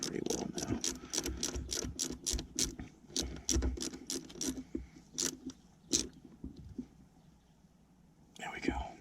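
Wrench ratcheting as bolts are tightened on a Yamaha Grizzly 600 ATV during an oil change, bursts of rapid clicking in repeated runs, close up, with a quiet voice murmuring in between.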